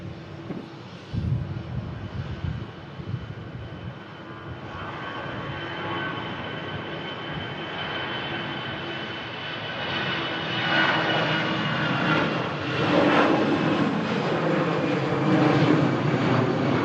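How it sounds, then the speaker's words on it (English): An Airbus airliner takes off in a crosswind, its engines giving a steady, broad roar that builds gradually and grows louder toward the end, heard at a moderate distance with no talking. "Really see that crosswind playing effect there on the Airbus takeoff there."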